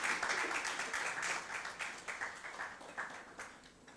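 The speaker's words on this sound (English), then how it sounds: "Another round of applause, please" A round of audience applause at a panel on legal reform against violence toward women, dense continuous clapping throughout that thins slightly toward the end.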